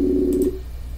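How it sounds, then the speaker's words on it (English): A telephone ringback tone on a call placed during a live paranormal radio show: a single steady electronic ring lasting about half a second, then cutting off to quiet line noise. "It's ringing."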